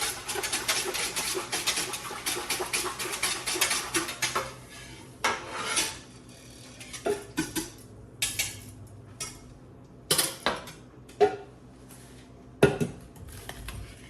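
Ingredients being stirred in a metal pot, with a rapid run of spoon clanks and scrapes at first, then slower, spaced knocks and clinks, close and clear, with no talking.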